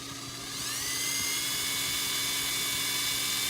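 A small power drill boring little holes in a measuring cup, a high-pitched whine that spins up quickly and holds steady and close, alone without talking.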